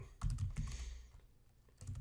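Clattering keystrokes on a wireless computer keyboard with weak batteries, two quick bursts of typing separated by a short pause, close-up and alone without voices.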